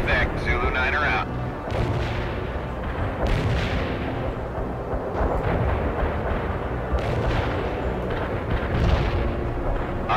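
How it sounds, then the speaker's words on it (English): Sustained artillery barrage in the video game World in Conflict, heavy overlapping booms and rumbling explosions forming a loud, dense wall of blasts with no pause. "Artillery barrage turned the target area into dust."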